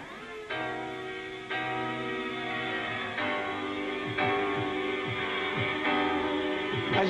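Jungle track built on sampled soul vocals plays fairly quietly. Sustained sung notes and held chords change in blocks every second or so over a low bass line, with no talk on top.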